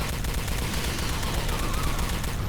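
Rapid, continuous bursts of energy-weapon fire from the enhanced compression rifle in the Star Trek Elite Force II video game, a dense rattling fusillade that is loud and steady throughout.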